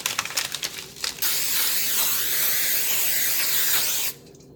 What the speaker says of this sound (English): just spray it a little bit with some olive oil or like some spray butter